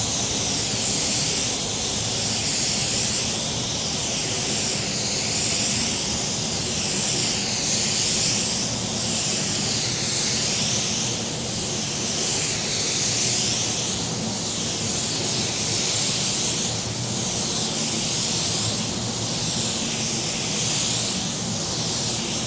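A DV1 spray gun blending car paint at 14 to 15 PSI makes a steady, close hiss of sprayed air, broken by regular passes that swell and fade, with no talking.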